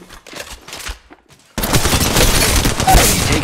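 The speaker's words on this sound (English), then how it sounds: "I am taking fire, friends." Gunfire in Apex Legends Mobile: after a quieter stretch of scattered game sounds, a loud, sustained barrage of rapid shots erupts and keeps going without pause to the end.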